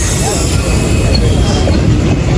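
A train rumbles past at close range with a loud, continuous roar of wheels on rails and faint squealing, while people talk underneath.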